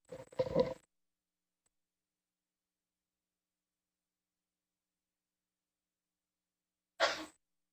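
Two short bursts: a sharp sneeze near the start, then after a long stretch of silence, a second brief sneeze-like burst at the end.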